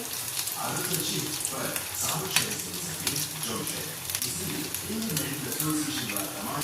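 Green chilli bhaji fritters deep-fry in hot oil, a dense continuous sizzle and bubbling close to the pan, with a couple of small clicks from the utensils along the way.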